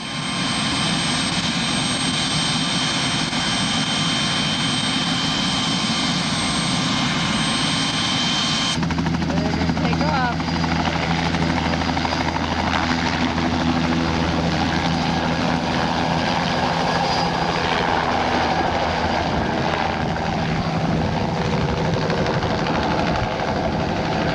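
A loud, steady helicopter rotor and engine drone with a low, pulsing throb at Meramec Spring State Park, close by and continuous throughout, shifting in tone partway through.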